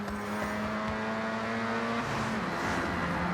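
A fully modded Mazda RX-7 in Forza Horizon 6 holds a steady, loud engine drone with a sustained tonal hum that shifts pitch partway through, continuous throughout with no voices.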